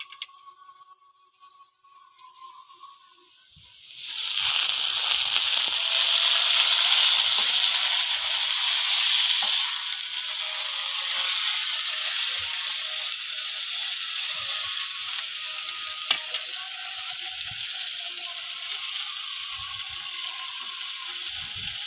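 Greens tipped into a pan of fried onions for a shrimp and tender winter greens dish, bursting into a loud, steady sizzle after a few quiet seconds and hissing on evenly, close by, with no talk.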